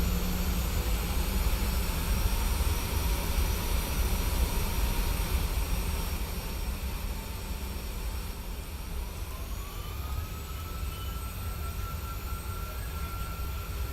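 Airliner jet engines roar steadily during a crosswind landing of a PMDG 737 in Microsoft Flight Simulator 2020, a loud continuous low rumble with a rising whine partway through, no voices over it.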